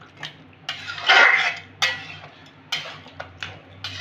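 Spiced chicken and yogurt are mixed in a pot on a medium-low flame, with a spoon clinking and scraping against the metal in short, irregular bursts of close, moderately loud knocks.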